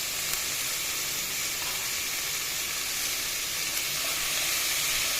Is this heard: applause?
no